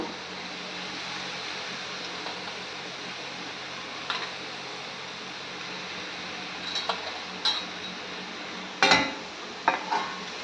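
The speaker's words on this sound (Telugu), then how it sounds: "నూనె వేడెక్కినాక ఇందులో మొట్టమొదటిగా క్యారెట్, తర్వాత క్యాబేజు" Carrot and cabbage frying in hot oil, a steady soft sizzle with occasional sharp clinks and scrapes of a utensil stirring the pan, heard close and without talk.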